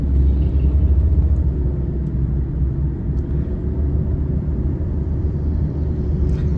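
Honda Cultus, a small car, rolls slowly along a busy road near Attock, giving a steady, loud low engine and road rumble with a continuous hum and no voices.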